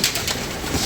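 Pigeons cooing as grain is scattered for birds coming down to land, a short burst of soft, near calls over a steady airy background with no talk.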